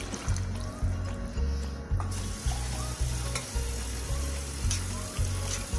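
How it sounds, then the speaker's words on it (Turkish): A chickpea and chicken stew in a pot bubbles and sizzles with a steady frying hiss, crossed by a regular low rhythmic hum, while water is poured in and trickles under it. "Suyunu ekliyorum."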